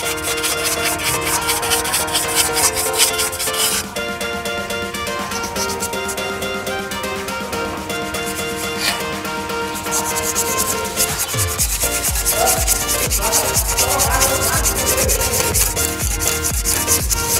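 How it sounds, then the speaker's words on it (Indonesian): A motorcycle's front brake disc is scrubbed with sandpaper in long, continuous rasping strokes, loud and close, with no talking. "selanjutnya kita melakukan pembersihan pada piringan cakram dengan menggunakan amplas seperti ini"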